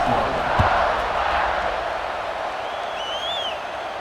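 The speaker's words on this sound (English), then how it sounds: "this crowd is buzzing after that last score" A stadium crowd in the college football game CFB26 keeps up a broad, steady roar that swells slightly and then settles, with a faint whistle-like tone near the end.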